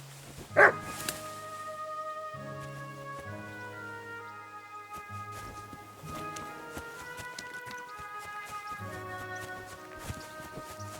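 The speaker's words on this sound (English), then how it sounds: "Barking?" A single loud, sharp dog bark in Kingdom Come Deliverance II rings out near the start, then gives way to steady medieval-style game music with no further barking.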